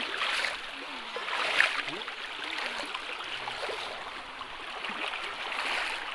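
Water flows and rushes steadily in a stream near Kuppanatham waterfall, a continuous wash of noise with a few faint splashes and gurgles.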